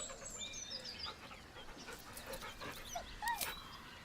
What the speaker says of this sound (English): With a deep, heartbroken whine, the dog bows his head. The dog whimpers nervously,